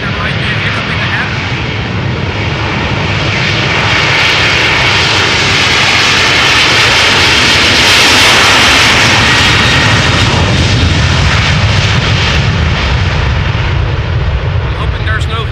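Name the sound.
Airbus A330-200 jet taking off at Amsterdam Schiphol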